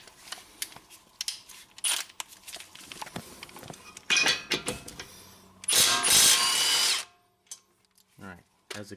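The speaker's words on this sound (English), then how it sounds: "let's see how the big one compares to the little one on some 17mm brake caliper bolts" A Milwaukee M18 3/8-inch impact wrench hammers on 17mm brake caliper bolts, with a few short loud bursts of rattling impacts, the longest near the end, between metallic clinks of tools and sockets.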